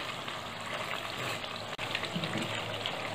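Hot water, three cups of it, pours into a pot of farali kand khichdi on the stove, a continuous liquid gush with a brief break midway.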